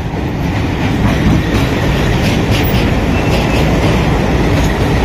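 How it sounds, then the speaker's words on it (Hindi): Train pulling into a railway station in Aurangabad, Maharashtra, a loud, continuous rumble of rolling railcars with clickety-clack wheel noise close by, no talking. "ट्रेन आ चुकी है।"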